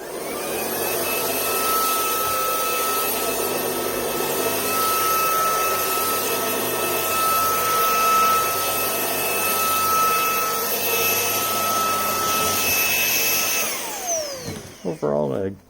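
Shark Wandvac cordless vacuum running over carpet, a loud, steady high-pitched motor whine with airflow rush that holds for about fourteen seconds, then winds down and cuts off with a few handling clicks.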